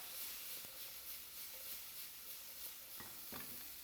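Abalone stir-fries in a pan, a quiet steady sizzle with a couple of brief scraping stirs near the end and no voices.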